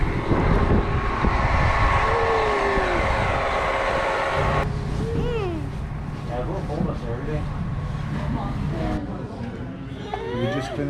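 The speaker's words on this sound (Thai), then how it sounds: "อันนี้รถไฟนะคะ" Train rumble and rail noise fill the background on a snowy mountain railway up Mount Washington, New Hampshire, while a person talks over it, the engine droning steadily throughout.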